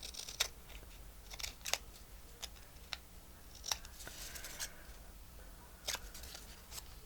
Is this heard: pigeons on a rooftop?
no